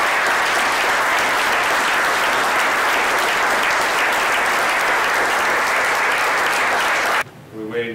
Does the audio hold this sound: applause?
yes